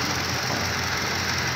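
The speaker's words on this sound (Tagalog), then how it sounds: "may parang humuhunin na tunog sa loob ng makina, lalo na po pagka nanakbo at pagka napakan yung silinyador" Steady humming from inside the engine bay of a 2015 Toyota Fortuner that has had an overhaul, a continuous broadband drone holding level and close up throughout, with no voices.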